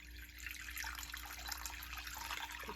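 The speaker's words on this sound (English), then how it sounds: "Put some nice warm water in my bowl." Warm water pours and trickles into a bowl with a faint, steady splashing and dribbling close to the microphone, under a low background hum.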